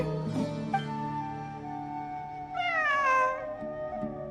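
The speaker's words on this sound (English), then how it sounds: "I'm not hearing things. It really is a cat." A cat meows near the ruins, letting out drawn-out, wavering meows, one at the start and a louder, longer one midway, over a sustained tonal background.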